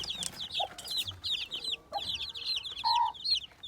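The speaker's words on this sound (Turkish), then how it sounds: "Burada şimdi annesi yanına çağırıyor civcivleri." A hen gives soft, repeated clucks calling her newly hatched chicks, which peep high and busy all around, close by and steady.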